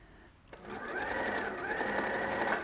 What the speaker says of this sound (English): I pinned without looking up, but I'll sew from the top.